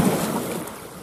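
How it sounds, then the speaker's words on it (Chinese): Large waves wash against a sea coast during shore fishing, a brief, loud rush of surf mixed with heavy wind buffeting the microphone. "看一下这会儿的浪多大"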